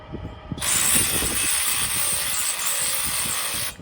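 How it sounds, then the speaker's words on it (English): A SeeSii RT600B cordless ratchet wrench running on a Makita battery tightens a bolt down hard, a loud close whirring buzz that starts abruptly after some handling clicks and runs steadily for about three seconds before cutting off. "let's tighten this down and see how tight it gets"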